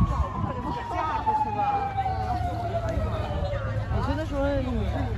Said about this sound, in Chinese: 消防车来了，消防车。